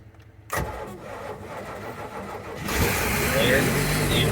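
A 1987 Malibu Sunsetter boat engine that has sat unused for a while cranks and catches after a quiet moment, then runs and is given some throttle, growing louder and rougher near the end.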